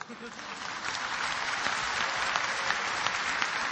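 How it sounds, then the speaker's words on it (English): Audience applause at a religious lecture, a dense steady wash of many hands clapping that swells slightly and holds at an even level, with occasional sharper individual claps standing out. "you're clapping"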